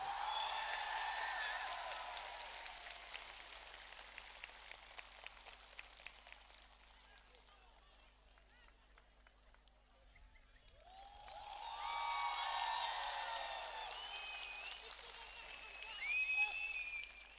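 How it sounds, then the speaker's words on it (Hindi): Crowd clapping at a Tipra Motha political rally in Ambassa, with two sustained waves of applause separated by a quieter pause, fairly distant and rising again toward the end. "एक बार हमारा तिपरा मोथा का प्रेसिडेंट विजय कुमार रांखोल को प्लीज बड़े हाथ से ताली दे के please give him the respect."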